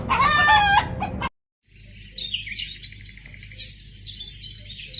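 Free-range native country chickens on a small farm garden in Dubai: a loud, close rooster crow opens, then a short pause gives way to steady clucking and chirping that continue alone.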